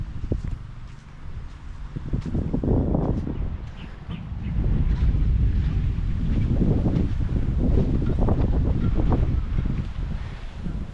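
Strong wind gusts across the beach at Lian, Batangas during car camping, a heavy rumbling rush against the microphone that swells louder midway and stays loud, with faint surf beneath.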